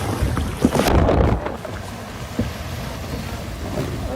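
A boat engine runs at full throttle, a close roar buffeted by heavy wind noise, with a couple of sharp thumps early on and a surge that eases after about a second and a half.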